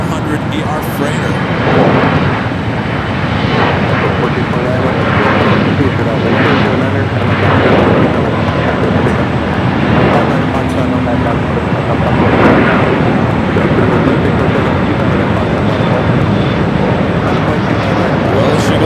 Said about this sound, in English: Coming in from Luxembourg, a 19-year-old 747-400 ER freighter.